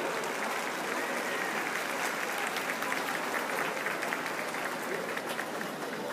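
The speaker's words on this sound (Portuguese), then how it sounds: "Podem aplaudir." Steady, even applause from a concert audience at a yacht club event fills the whole stretch, a dense wash of many hands at moderate distance without a break.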